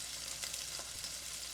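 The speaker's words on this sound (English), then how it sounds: "Sizzle, sizzle." Steak sizzles and crackles in a hot pan while cooking, a steady close frying hiss with a few brief pops.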